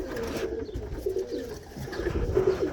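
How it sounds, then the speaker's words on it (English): A pigeon coos in low, soft repeated bursts while birds are being sorted for a flight, with a steady background hum and no talk. "I've got to pick a different pigeon"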